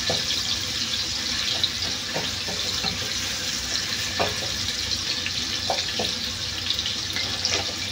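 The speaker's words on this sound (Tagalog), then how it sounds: "Igigisa na natin ang ating luya." Ginger sizzles and fries in hot oil for chicken tinola, a steady bright crackling hiss with occasional stirring clicks, close and fairly loud with no talking.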